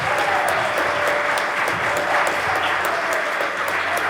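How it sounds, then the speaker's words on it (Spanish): A church congregation claps strongly and steadily, a dense, even wash of applause with a few sharper individual claps and a faint tone underneath, continuing without pause throughout. "Dele un aplauso fuerte a Jesús."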